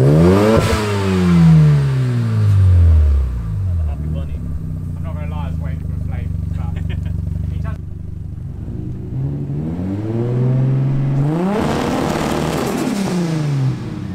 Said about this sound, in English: We'll see how it sounds with a bit of open throttle.